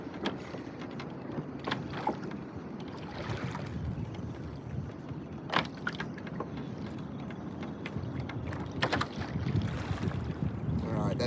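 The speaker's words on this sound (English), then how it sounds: "I'll keep paddling on that side, but we'll have to line this one in" A kayak paddled on open sea water while fishing for mackerel, with soft paddle splashes and strokes over steady wind noise, faint and irregular across the scene.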